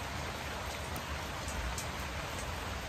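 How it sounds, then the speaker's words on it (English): Steady rain falling outdoors on a back porch, an even, dense hiss of drops on surfaces with a few brighter patters, continuous and moderately close, with no voices. "Forgive the rain."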